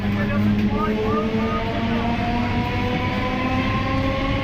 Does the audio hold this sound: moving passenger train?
yes